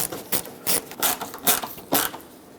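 Headlight screws on a 2000-2005 Ford Excursion are snugged down with a tool, giving five or six short, close rasping bursts separated by brief pauses.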